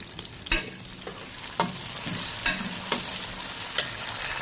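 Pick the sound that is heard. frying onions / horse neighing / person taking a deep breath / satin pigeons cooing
frying onions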